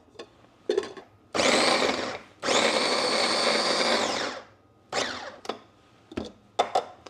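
Electric mixer blending cooking ingredients, running in bursts: two long loud whirring runs in the middle, framed by short sharp pulses before and after.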